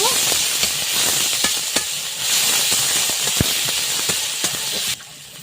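Spice paste with onion and garlic sizzling steadily in a hot pan for Bengali prawn and banana flower cooking, a continuous bright hiss with small crackles and pops, fairly close, before dropping off near the end.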